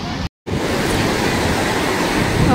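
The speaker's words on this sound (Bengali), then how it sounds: "আমার তো আওয়াজটাতেই ভয় লাগছে রে, কি বড় বড় ঢেউ আসছে" Big sea waves crashing at Swargadwar beach in Puri, a loud continuous roar of surf that fills the whole clip apart from a brief cut near the start.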